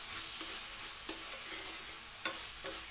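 A spoonful of ginger-garlic paste fries quietly in oil for chole curry, giving a soft, even sizzle punctuated by a few light spatula taps against the pan.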